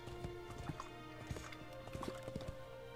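Horse hooves clip-clop in a steady galloping rhythm in the video game Shadow of the Colossus, sharp repeated thuds over a constant droning musical background.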